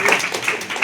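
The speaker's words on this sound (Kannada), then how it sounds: "ಚಪ್ಪಾಳೆ ತಟ್ಟಬೇಕು" A church congregation claps in a brief, steady burst of close, even hand claps that continues for under a second.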